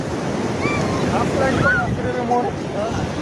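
Sea surf rolls steadily onto a beach as a broad, continuous wash, with wind buffeting the microphone and faint voices mixed in underneath.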